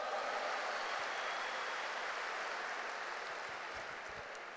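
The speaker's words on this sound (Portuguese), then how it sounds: "Um aplauso para eles" Applause from a church congregation fills the room, a steady dense clatter of many hands clapping together that holds strong before slowly easing off toward the end.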